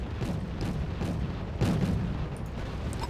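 Mortar artillery fire in the Wargame Red Dragon video game, heard as dull booming thuds over a steady rumbling battle bed, one stronger blast near the middle, with no voices.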